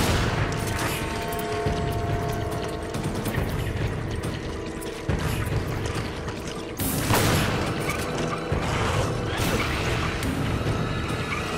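Dense, continuous gunfire and booming blasts from Resident Evil 5 gameplay, loud and sustained throughout with rapid bursts layered over a busy background of game effects.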